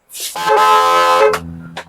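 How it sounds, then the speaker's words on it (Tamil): A loud Volkswagen Polo-type car horn blares once close by in a sustained, brassy honk lasting about a second, followed by a short second toot. "இது வந்து Volkswagen polo type horn bro"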